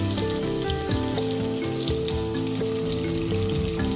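Carrot and capsicum pieces fry in a pan, giving a steady, even sizzle throughout with a faint crackle and no voices.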